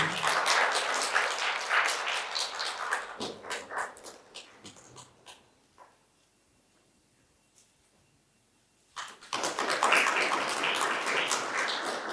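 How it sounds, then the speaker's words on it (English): Audience applause at a tourism conference valedictory session rings out loudly, thins into scattered claps and near silence, then surges back as a full, steady round. "Please give a round of applause."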